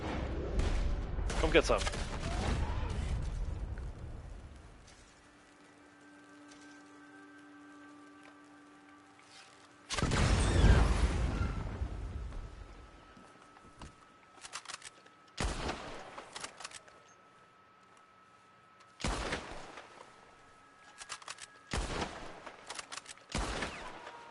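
Gunfire and dynamite blasts in Red Dead Online: loud bursts of shots and explosions around 0–2 s and a big blast near 10 s, then scattered shots with quieter gaps, under occasional talk.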